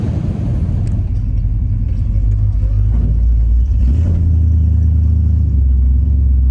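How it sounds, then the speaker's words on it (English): A 1955 Chevrolet Bel-Air rumbles along from inside, its engine droning low and revving slightly, with a muffled voice briefly under the engine. "Cruising by the beach in a 55 Bel-Air."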